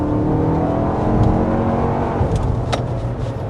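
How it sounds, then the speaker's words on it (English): A 2024 Lexus TX 350 four-cylinder SUV engine revving and pulling steadily, a continuous loud drone heard from inside the vehicle, with a few light clicks near the end. "What you might not like as much as the sound of the engine, perhaps, because it is a 4-cylinder."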